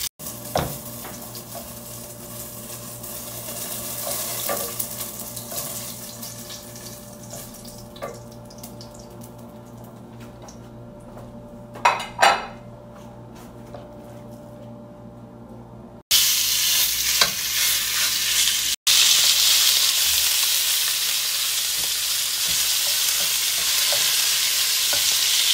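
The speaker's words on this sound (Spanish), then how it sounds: "Y ya la carne ya se está cocinando por allá" Pork meat frying and being stirred in a pan in a home kitchen, with a steady sizzle, scraping stirs and a brief tap-water burst, becoming louder and hissier in the final stretch.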